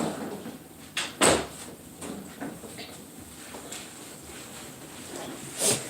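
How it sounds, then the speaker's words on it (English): A house door is pushed shut all the way indoors, with a sharp thud and latch click early on, then faint shuffling and a softer knock at the end over quiet room noise. "so he wants the door closed all the way"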